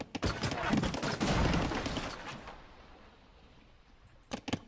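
War galleys in an Age of Empires castle match fire cannon volleys, a dense rolling barrage of booming shots for about three seconds, then quieter game ambience and two sharp isolated reports near the end.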